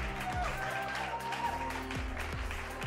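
Audience applause greeting a guest at a vocational training centre event, a steady wash of clapping at moderate distance that fills the moment without speech.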